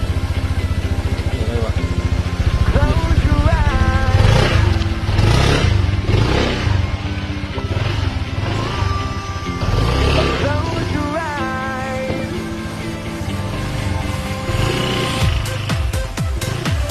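A Honda Click 160 scooter engine close by, revving up and down repeatedly with rising and falling pitch, a rough idle between bursts, and voices talking over it.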